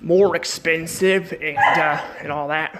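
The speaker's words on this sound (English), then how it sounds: "Sorry too if you guys hear my dog barking." A dog barks and yips in several short, close bursts with whimpering tones, mixed in with someone talking.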